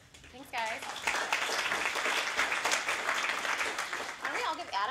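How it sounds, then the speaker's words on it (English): An audience applauds a speaker at a Social Security academy for interns, a dense wash of clapping that swells and holds for several seconds, with a voice briefly audible at the start and end. "Why don't we all give Adam a round of applause for waking us up this morning?"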